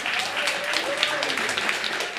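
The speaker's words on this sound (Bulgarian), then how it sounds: "Седни аплодисменти за Дани Ласков" Audience applause at a diploma concert, a steady wash of clapping from a hall crowd, moderately loud and continuous for a couple of seconds with some voices mixed in.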